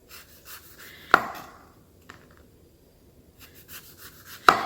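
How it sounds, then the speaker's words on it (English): Knife slicing grapefruit on a cutting board, with soft rubbing cuts and three sharp board knocks spaced unevenly, close and fairly quiet. "I'm going to start with my grapefruit and I'm just going to cut it into slices."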